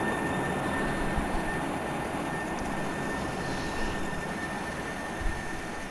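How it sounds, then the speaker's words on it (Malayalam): A metro train rolls past in Bus Simulator Indonesia, a steady, dense rumbling roar holding level throughout, with a faint thump near the end and no talking. "മെട്രോ പോകുന്നു."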